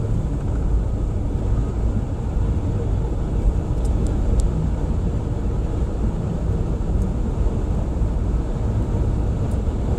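Steady road and engine rumble from a vehicle loaded with mattresses driving through the Virginia mountains, a continuous drone heard from inside the cab with no talking, a few faint high ticks over it.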